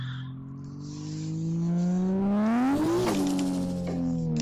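In the Assetto Corsa video game, a Toyota Altezza's 1J engine revs up sharply from idle toward its limiter and drops back, a loud climbing engine howl heard alone.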